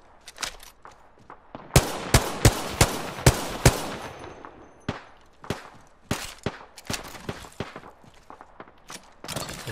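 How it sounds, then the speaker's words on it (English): Rapid bursts of automatic gunfire from the Apex Legends video game, sharp close cracks in irregular clusters, with quieter footsteps and scattered shots in between. "I am taking fire, friends."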